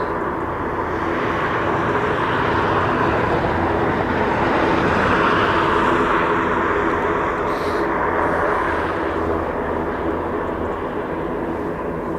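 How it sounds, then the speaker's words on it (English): An aircraft at Aberdeen Airport produces a steady, loud engine roar that holds evenly for the whole stretch, with a broad rumble and no voices over it. "now still here another aircraft"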